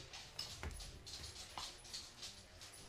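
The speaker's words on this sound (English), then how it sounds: "I think our dogs need out." Dogs indoors whine and whimper to be let outside, giving a few soft, intermittent yips and whimpers at moderate distance over a quiet room.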